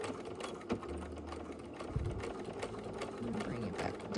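A home sewing machine runs steadily while stitching over cords near a seam, with a backstitch partway through; the motor whirs continuously at close range, and someone talks over it.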